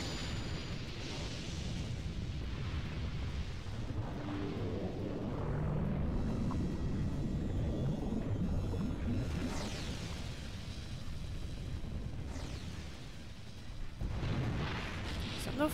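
Explosion in the video game The Legend of Dragoon, a sustained booming rumble with crackling bursts that swells and fades over many seconds, with no talk over it.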